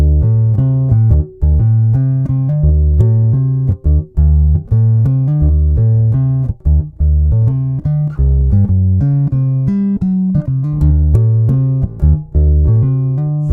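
Fernandes Retrospect 5 Deluxe JP bass guitar with EMG pickups playing a loud, continuous riff of punchy low notes with strong harmonics and brief gaps between phrases, heard alone without talk.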